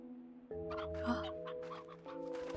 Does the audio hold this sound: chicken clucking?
yes